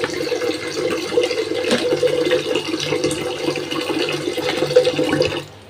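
Tap water runs steadily into a bowl as lentils (dal) are washed in a small home kitchen, a continuous close splashing flow lasting several seconds before cutting off.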